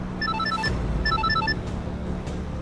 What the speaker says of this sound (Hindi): दुबे जी का फोन